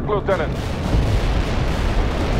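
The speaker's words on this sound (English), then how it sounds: "Heavy armor firing at the enemy" Heavy armor tank cannon fire in the World in Conflict war game: a loud booming blast with rumbling aftermath, following a brief spoken word at the start.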